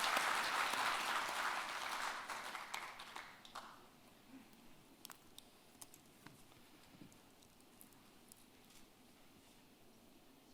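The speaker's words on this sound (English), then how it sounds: "please welcome him with a big round of applause" Audience applause at an international finance conference session, a steady wash of clapping that fades over the first few seconds into scattered claps and faint room sounds, no voices.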